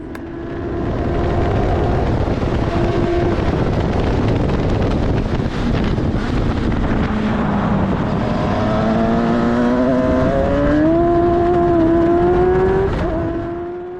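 A race car screams around Donington Park during testing, its engine loud and close throughout with rising pitch sweeps as it revs through several gear changes over wind buffeting.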